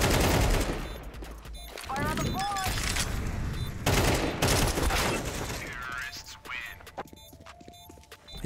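MP9 submachine gun fire in a first-person shooter, dense rattling bursts mixed with other game effects and clatter, loud at first and then thinning out, with voices talking over parts of it.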